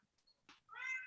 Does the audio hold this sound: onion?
no